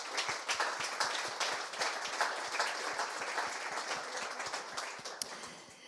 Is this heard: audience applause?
yes